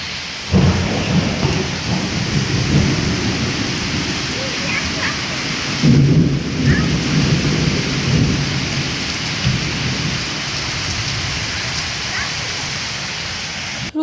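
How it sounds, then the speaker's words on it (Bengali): Heavy rain pours outside in a dense, constant roar, joined by low rumbling thunder that swells near the start and again midway, with no talking. "প্রচুর পরিমাণে বৃষ্টি হচ্ছে বাইরে"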